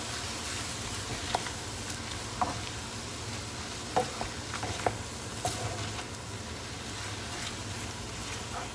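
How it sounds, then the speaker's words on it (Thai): Shrimp and glass noodles sizzle steadily in a pan, with soft intermittent scrapes and clicks as they are stirred, quiet and close throughout. "คนนิดนึงค่ะ จะได้สุกทั่วๆกันทั้งกุ้งแล้วก็วุ้นเส้น"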